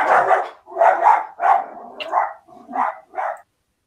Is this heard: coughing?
no